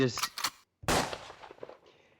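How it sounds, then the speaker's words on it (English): Gunshot sound effects: a couple of quick short bursts, then a single loud sharp bang that decays into a fading rumble. "I got more gunshots for you."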